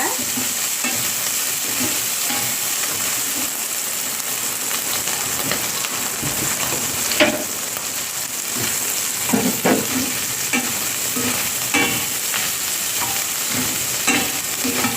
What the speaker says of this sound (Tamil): நாங்கள் வெட்டி வச்ச வெஜிடபிள் கொஞ்சம் உப்பு எல்லாம் சேர்த்துக்கொள்வோம் கொஞ்சம் இது நல்லா ஃப்ரை பண்ணிடுங்க